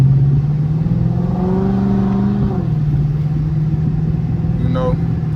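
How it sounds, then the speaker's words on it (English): Chrysler 300C Hemi V8 engine revs up and pulls during a drive with the windows down, a steady rising drone, then easing off before a short higher whine near the end, with someone talking over it. "I'm gonna roll the windows down a little bit so y'all can hear the car a little bit"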